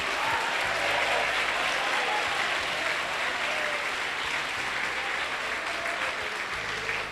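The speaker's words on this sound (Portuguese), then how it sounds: "desocupem as mãos, batam palmas e glorifiquem" A church congregation claps hands together in a steady, dense wash of applause that runs the full length without pause, fairly even in loudness with no voices rising above it.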